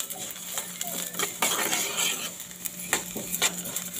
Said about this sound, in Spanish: ahorita estoy dorando el arroz